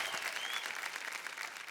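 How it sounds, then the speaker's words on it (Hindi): A studio audience applauds for Nikita Naidu on a Hindi family game show, a steady, dense wash of clapping heard alone and moderately distant throughout. "जोरदार तालियां निकिता नायडू जी के लिए"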